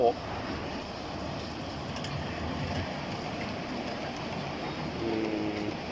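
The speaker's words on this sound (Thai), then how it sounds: "นี่รถไฟน้อยเรามาแล้ว" A small tourist train pulls in at a roadside noodle spot overlooking fields, a steady rumbling roll that holds evenly and swells slightly toward the end.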